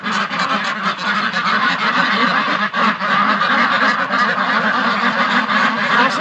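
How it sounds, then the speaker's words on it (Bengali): A flock of white Pekin ducks calls continuously, dense overlapping honking quacks close by and loud throughout, with no gaps. "হাঁসের ডাক দেখছেন?"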